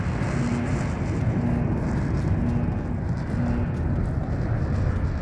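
Steady, loud airplane engine drone inside the transport plane carrying players to the competition zone in the mobile battle royale game Game for Peace, a continuous roar holding evenly throughout with no talk.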